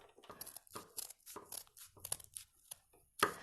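Scissors cutting thin strips into paper for a lacy paper snowflake, a series of quiet, close, crisp snips and crinkles in an uneven rhythm, about a dozen cuts with short pauses between them.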